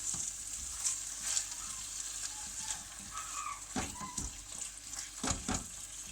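Rice mixture being stirred in a cooking pot, with a steady sizzle of frying, a few soft scrapes and knocks of the spoon near the end, and no talking.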